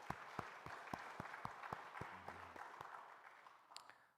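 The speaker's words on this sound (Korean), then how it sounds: "우리가 환영한다고 박수 한번 더 합시다" Sharp, distinct claps ring out as a church congregation applauds to welcome a returning young member during Sunday worship, a few loud hand claps spaced over a softer wash that gradually fades.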